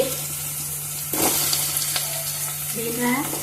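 Curry leaves and chilli pieces being stirred in a hot frying pan for a chutney: a steady sizzle that jumps louder partway through as the spoon scrapes, with a faint voice briefly at the start and end.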